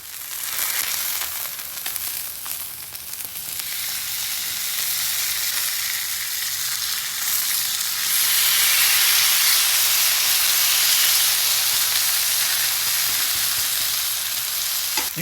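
Ribeye steaks on a grill give off a loud, continuous sizzling hiss that swells slightly midway, close and steady with no talking.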